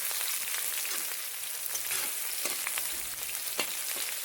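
Ginger and garlic fry in a pan for chickpea ghugni, a steady, close, dense sizzle with small crackling pops throughout and no voices.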